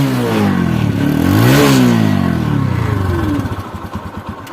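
A close, loud revving of a 2020 TVS Apache RTR 160 motorcycle with about 1,500 km on it: the engine climbs to a peak, winds back down, and drops into a chugging, pulsing idle.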